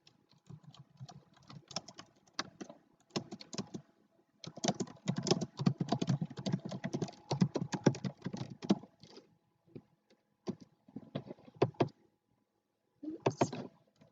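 Typing on a computer keyboard with sticky keys, close and fairly loud, in irregular bursts of clacking keystrokes with short pauses between runs and no talking.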